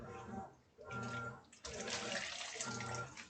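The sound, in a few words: water being poured in while cooking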